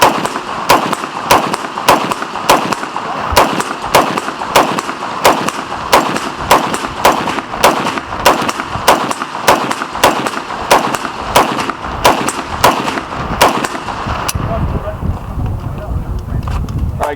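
Rapid, evenly spaced rifle shots from a head-down rifle chambered in 7.62 NATO ring out one after another at a steel silhouette target, loud and sharp, stopping abruptly near the end.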